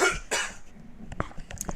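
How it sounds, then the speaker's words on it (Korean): A few sharp coughs close by, the first two loud and broad, then several shorter, fainter coughs and throat noises spaced apart. "계속 기침나네."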